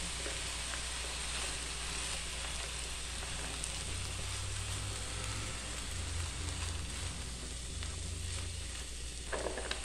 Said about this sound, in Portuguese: Vou refogar um pouco esse frango aqui